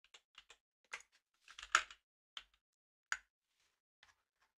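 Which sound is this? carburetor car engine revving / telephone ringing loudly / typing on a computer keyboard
typing on a computer keyboard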